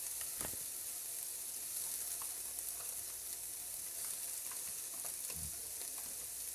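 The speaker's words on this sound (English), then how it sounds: "We're going to go in with the garlic." Garlic frying in a pan with softened onions and peppers as the base for paella, a steady close sizzle with small crackles and an occasional stir or clatter of the spoon.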